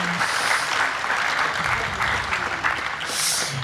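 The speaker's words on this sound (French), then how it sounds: "Bravo, on peut les applaudir" Steady, dense applause from a conference audience at a closing plenary session, a continuous wash of clapping that holds evenly throughout.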